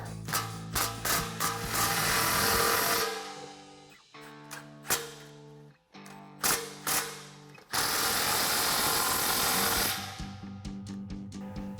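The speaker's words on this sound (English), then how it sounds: "Now grab your 15mm socket and tighten down both your clamps." A 15mm socket on a ratchet tightens the exhaust clamps of a Borla S-Type cat-back exhaust on a 2024-2025 Mustang GT. Close, rapid ratcheting clicks come in bursts, with pauses and a few metallic knocks between them.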